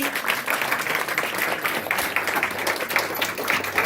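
An audience applauds at an annual day celebration in PD Vihar, Delhi: dense, steady clapping from a large crowd that holds an even level throughout, with no speech over it.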